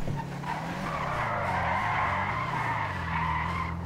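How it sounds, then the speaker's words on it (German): Car in GTA breaking loose and sliding out, a sustained tire squeal with a steady engine drone underneath, loud and continuous, no voices. "Ja, der Wagen, der bricht immer so ein bisschen aus."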